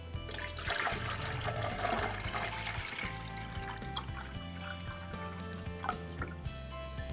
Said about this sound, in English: Next up is to fill the water tank.